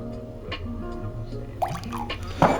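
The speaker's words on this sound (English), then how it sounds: "if you can find some good nettle cordial, you're gonna want 20 mils. Put that straight in." Nettle cordial, about 20 ml, poured into a cocktail: brief, quiet drips and small splashes over a low steady room hum, with a slightly louder splash near the end.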